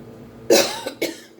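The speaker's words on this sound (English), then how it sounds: "I'm so sorry for coughing, but I can't stop." A pair of harsh, close coughs after a short quiet moment, the second slightly weaker than the first.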